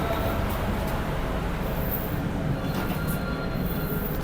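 KA Banyubiru economy-class passenger train running, a steady loud rumble of wheels and carriage noise from inside the coach, continuous throughout with faint high squeal bursts.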